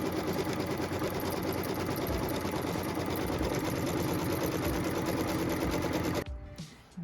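A sewing machine stitching a pieced quilt block runs in a fast, steady, close-up stream of needle clatter for about six seconds, then stops abruptly, leaving a few faint handling noises.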